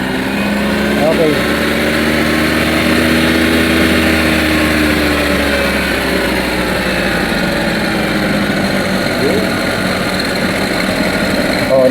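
A Suzuki Multicab engine idles after repair of a defective carburetor, a loud, steady close-up engine hum with a slight waver in pitch, and voices are heard faintly alongside.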